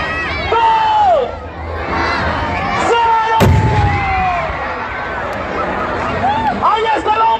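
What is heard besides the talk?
explosion of a human bomb stunt with crowd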